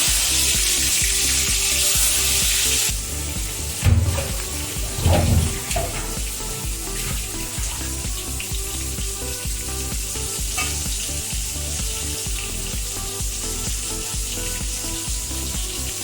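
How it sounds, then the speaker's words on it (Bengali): Eggplant pieces frying in mustard oil in a wok, a continuous hissing sizzle that drops slightly after a few seconds, with a few clanks and stirring sounds, no speech. "এখন আমি বেগুনগুলো ভেজে নেব"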